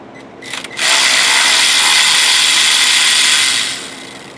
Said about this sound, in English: Typically, I like to break the nuts loose with a wrench and then hit it with power.